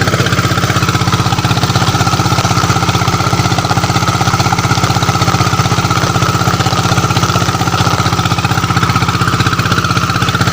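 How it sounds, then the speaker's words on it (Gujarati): An automatic seed drill runs steadily in a cotton field, sowing seed and fertilizer, with a loud continuous engine drone and mechanical rattle throughout, no pauses and no voices. "આ છે મોસમ ઓટોમેટિક સીડ ડ્રીલ એટલે કે ઓટોમેટિક ઓરણી"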